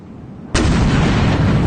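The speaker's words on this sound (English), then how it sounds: "it was one Damn. hell of an explosion" A large explosion at Kacha airfield, likely ammunition going up, hits suddenly as a loud, broad blast and rolls on as a sustained heavy roar. It comes from played footage, and no voices are heard.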